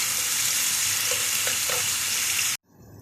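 Fish pieces frying in hot oil in a pan make a loud, steady sizzle with faint scraping now and then, ending abruptly as it cuts off.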